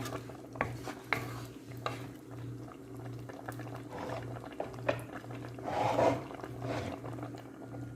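Potatoes tipped into a pan of simmering pineapple chicken and stirred, with a steady low bubbling, scattered clinks of a utensil against the pan and a brief louder scraping stir near the end.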